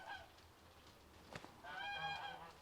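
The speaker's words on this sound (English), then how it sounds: "I swear the geese are like deliberately interrupting me." Geese honk outdoors, a faint, brief honk at the start, then a louder run of repeated honks toward the end over quiet background noise.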